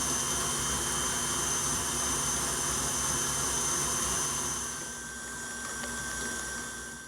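An electric mixer runs steadily on high speed, beating royal icing made with powdered sugar; the loud, even whir continues throughout and eases slightly near the end, with no talking.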